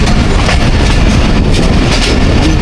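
Thall Express passenger train between Jand and Multan Cantt rolling along the rails at slow speed by day, a steady loud rumble with rhythmic clickety-clack from the wheels, heard from on board without voices.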